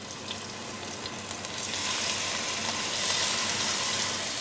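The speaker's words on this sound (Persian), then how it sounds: "این کبابو ما زیاد نباید سرخ کنیم، فقط کمی که گوشتمون تغییر رنگ پیدا کرد برمیگردونیم" Roudbari shami kebab patties fry in a pan with a steady, close sizzle that grows louder and fuller partway through and then holds constant, with no talking.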